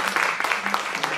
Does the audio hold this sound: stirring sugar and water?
no